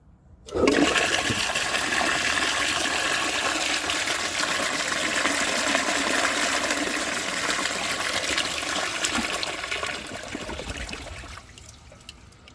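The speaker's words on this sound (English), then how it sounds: "And that right there is the first time I ever flush tested this toilet with anything besides water." A 1902 Fleck Bros. Victor toilet flushes a washcloth, with a loud, close rush of water that starts abruptly, roars steadily for about ten seconds and then tapers off toward a quieter trickle.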